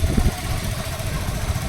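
A motorcycle engine runs steadily during an open-air ride, giving a low, even rumble with a faint flutter and wind noise, and no talking over it.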